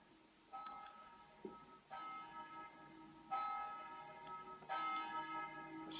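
Verdin 720 digital carillon playing church bell tones: three struck bell notes with long ringing overtones, each strike swelling louder than the last, sounding alone and fairly close.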